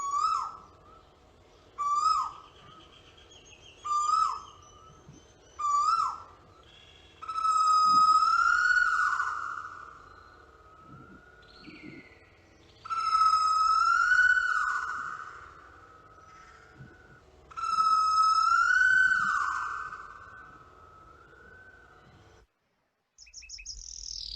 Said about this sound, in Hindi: कोयल की आवाज